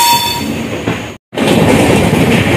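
Kerala Express train rolling away from Thampanoor railway station in Thiruvananthapuram, a steady loud rumble of wheels and carriage noise with a brief dropout midway, no voices.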